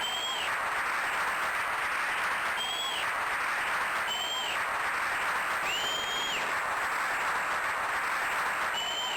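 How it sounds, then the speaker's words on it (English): Steady, sustained applause from an evening audience at a live retro-gaming show about 1993 Amiga games, dense clapping running unbroken and fairly even throughout, with no voices standing out. "Gotta love the slightly awkwardly long applause"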